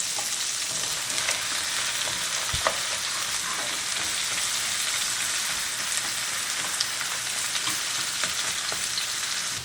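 A load of zucchini crowds a pan and fries with a dense, unbroken sizzle, with occasional clinks and stirring scrapes and no talking.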